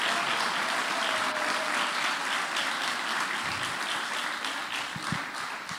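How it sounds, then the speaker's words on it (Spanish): Audience applause for the hosts at a church gathering, a dense steady roar of many hands clapping that slowly thins and fades toward the end. "Yo quiero que le demos un fuerte aplauso a los anfitriones"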